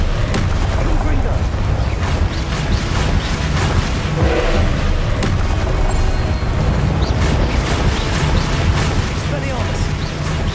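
Booming fiery blasts from the Confringo explosion spell in the Hogwarts Legacy video game, loud and continuous amid dense combat noise, with voices calling out spells over the rumble.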